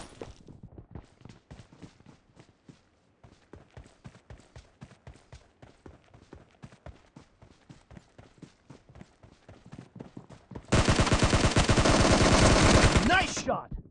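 Rapid bursts of assault rifle fire in the PUBG Mobile video game, a long run of sharp shots in uneven clusters, ending in a dense, loud volley of continuous fire.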